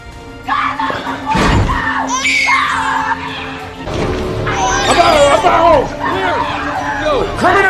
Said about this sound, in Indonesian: seorang ibu-ibu tiba-tiba berteriak